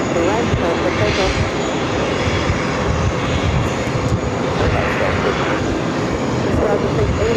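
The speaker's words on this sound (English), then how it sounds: "runway 13 right, clear for takeoff" A jet airliner takes off from a runway at JFK airport, a loud, steady, broad engine roar that holds throughout, with radio voices faintly underneath.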